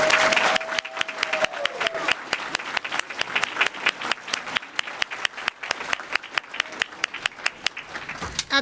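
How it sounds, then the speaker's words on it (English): A graduation-style certificate ceremony audience applauds the senior class of 2022: dense, sustained clapping from a large crowd that fades toward the end, with a brief voice early on. "Applause, please, for the senior class of 2022."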